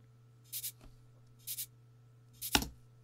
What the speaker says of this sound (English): it's just a little real simple cabasa part